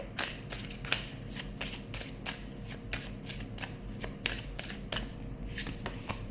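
A deck of tarot cards is shuffled and drawn by hand at close range, giving a steady run of soft riffling slaps and flicks at an even, brisk rhythm, with no talking over it.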